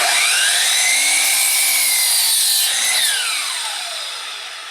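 A power saw cuts a 15-degree bevel on the end of a wooden leg for an outdoor chair, a loud, close high whine that bites through the wood and then winds down as the blade slows.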